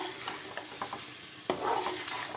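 Chicken yakhni with whole green chillies fries in a pot, a steady close sizzle broken by light stirring scrapes and one sharp clack. No one speaks.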